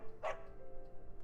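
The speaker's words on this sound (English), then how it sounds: "Good dog." A dog in the video game Psychonauts 2 gives a single short bark, quiet and brief, over a low steady game background.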